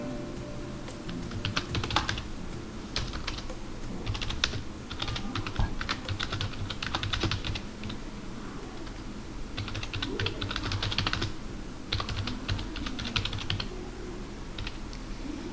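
Typing on a computer keyboard, close, clicky keystrokes in bursts of rapid taps separated by short pauses, continuing for the whole stretch with a faint background hum and no talking.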